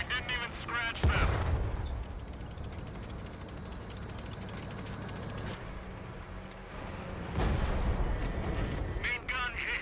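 Main gun of an Obj. 268 tank destroyer firing in a tank video game, two heavy booming blasts a few seconds apart over continuous engine rumble and battle noise, loud and close.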